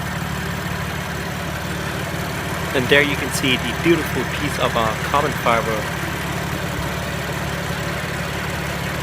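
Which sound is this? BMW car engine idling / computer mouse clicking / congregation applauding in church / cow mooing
BMW car engine idling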